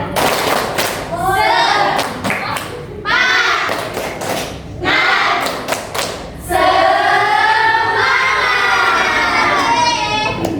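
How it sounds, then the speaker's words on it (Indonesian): A primary school class in an Islamic elementary school does a rhythmic spirit clap, bursts of claps and thumps between loud children's voices chanting and shouting, with a teacher speaking. "sekarang kita tepuk semangat dulu ya. Tepuk semangat."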